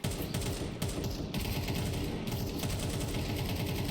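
Rapid automatic gunfire in a Counter-Strike college esports match, dense continuous bursts of shots with brief breaks, loud and close throughout.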